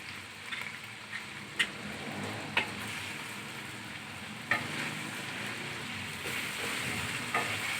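Garam masala and spices frying in a pan for chicken malai handi, a steady soft sizzle with occasional sharp clicks of a spoon against the pan.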